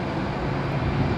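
An Air France airliner on pushback at Manchester Airport gives a steady, loud, broadband engine roar that holds level through a short stretch.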